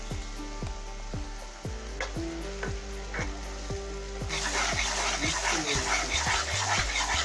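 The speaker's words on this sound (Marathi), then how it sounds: "हा ओला मसाल्याचं वाटण अगदी छान भाजून घेऊया" A loud, steady sizzle of wet spice paste frying in oil for chicken masala starts about halfway through, preceded by a series of short repeated yelping sounds.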